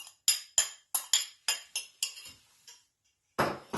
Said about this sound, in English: I'll put the pecans in here.